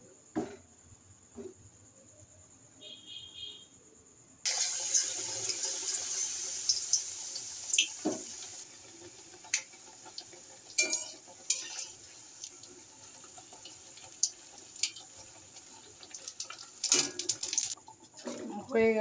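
Eggplant fritters coated in gram flour batter fry in hot oil in a wok, a loud steady sizzle that starts abruptly after a quiet opening and carries on with scattered sharp pops and clatters.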